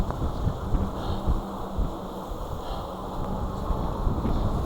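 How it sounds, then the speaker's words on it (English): Strong wind roaring and buffeting a microphone while someone rides a 2024 Wired Freedom Super Bike, a constant low rumbling rush with no voices. "That wind let down a little, so we're speeding up."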